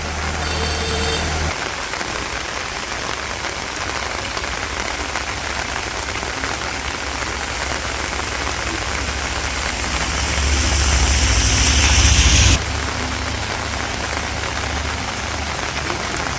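Steady heavy rain pours during a stormy village walk, a dense continuous hiss that swells louder for a couple of seconds before easing back to an even downpour.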